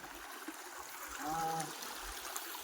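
A stream flows with a soft, steady trickle and babble, faint and continuous, while a brief voice or tonal sound rises briefly in the middle.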